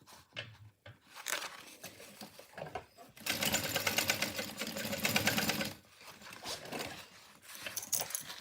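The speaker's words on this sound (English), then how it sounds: "I'm going to sew that with a 1/4 inch seam allowance" Sewing machine stitching darts on a bag's lining side panel with a quarter-inch seam allowance, running in close bursts: a short start, a long steady rapid stitching run in the middle, then a lighter run to the end.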